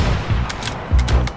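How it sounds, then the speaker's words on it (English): Bursts of cartoonish gunfire from the video game Fashion Police Squad, a few quick punchy shots in two short clusters, loud and close. "it makes for some satisfying shooting"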